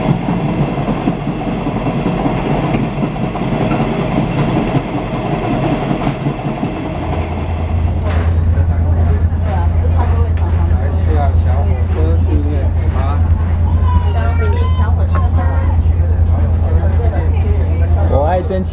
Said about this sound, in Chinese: 蒸汽火车